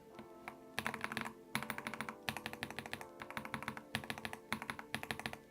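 Mechanical keyboard keys clack in quick bursts of typing on a custom-built board with no top case. The strokes come close and crisp, in several clusters separated by brief pauses, with no talking.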